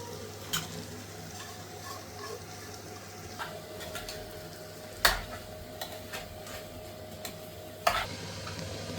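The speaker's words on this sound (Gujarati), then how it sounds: "હવે કોબી નાખી અને ફેરવી લઈ" Cabbage is stirred into cooked spiced potatoes in a pan over a quiet sizzle, with a few soft spoon scrapes and sharper clinks against the pan spaced irregularly, close but faint.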